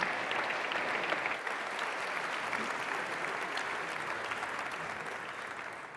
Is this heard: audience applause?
yes